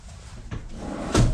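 A drawer slides open with a short rattle, then shuts with a firmer thump close by.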